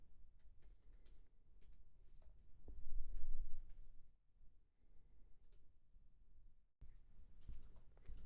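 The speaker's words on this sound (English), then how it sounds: "I'm just going to type out a very quick example animation so you can see what it looks like all typed up" Someone types CSS animation code on a computer keyboard, with soft, close, uneven key clicks and a brief louder burst of rapid keystrokes partway through, and no talking.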